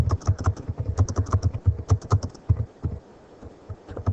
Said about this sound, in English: So let me type that out.